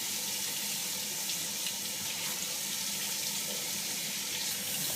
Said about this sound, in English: just put it in water and wash the thing.